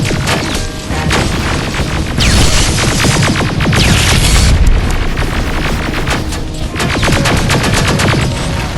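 Sustained suppressing gunfire in the shooter game Terminator: Resistance, loud continuous bursts with heavy booms throughout, dense and unbroken, with no talking.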